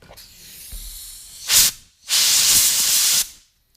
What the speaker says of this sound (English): all you wanna do is blow out any leftover debris or acetone within the bearing